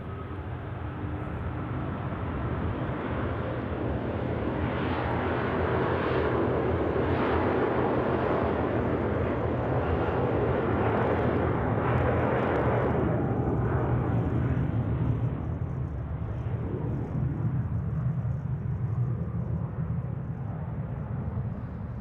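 An Airbus A330 at Zurich Airport makes a continuous heavy engine roar that swells in the middle and eases slightly toward the end, loud and unbroken with no talk.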